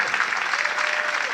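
An audience claps for a team of volunteers in a continuous, even burst of applause, close and full, with no gaps.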